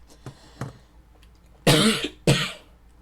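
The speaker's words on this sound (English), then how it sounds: "Sorry, I didn't mean to cough like that." Two sharp, close coughs in quick succession ring out loud after a stretch of near silence with faint background sounds.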